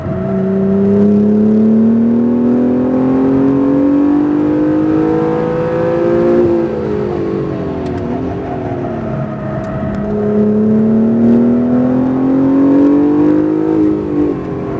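An Acura NSX engine revs on a race track, a loud sustained drone that climbs in pitch, dips briefly and climbs again as the throttle is held through the corners.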